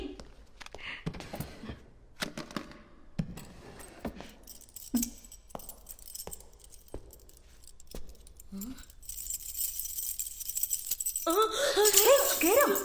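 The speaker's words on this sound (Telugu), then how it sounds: "తాళాలు" Keys jangle in a dim room during a horror film scene, a few brief metallic clinks and rattles scattered among quiet movement, followed by a rising burst of louder noise at the end.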